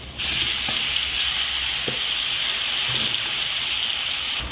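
Onions and beef marinated in curry powder, salt and pepper sizzle and fry loudly and steadily in a pan, with a few faint stirring knocks, no talking.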